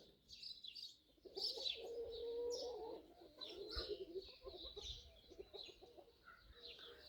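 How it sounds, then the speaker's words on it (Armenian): Chickens in a rural yard cluck and chirp softly, faint and fairly distant, with no one speaking over them. "այս հավերը"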